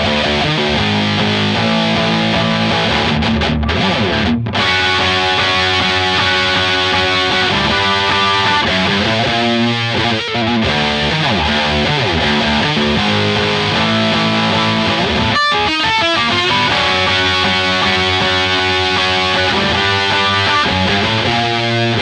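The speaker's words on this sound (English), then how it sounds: "We've got the bright clarity from the prime distortion really cutting through" An electric guitar played through prime distortion and overdrive pedals, a loud, dense and continuous wall of sustained distorted chords with brief rhythmic breaks, close and with no talk over it.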